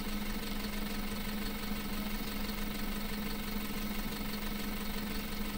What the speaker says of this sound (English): Now the tractor arrives